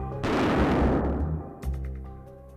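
A pistol shot rings out as one loud, sharp blast with a long, rumbling decay. A second, weaker report follows about a second and a half later, and no voices are heard.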